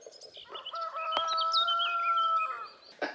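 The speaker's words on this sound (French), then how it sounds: "Il y a le coq qui chante." A rooster crows outdoors in one drawn-out cock-a-doodle-doo with sustained harmonic tones, moderately distant and fairly quiet, with a few clucks and bird calls around it.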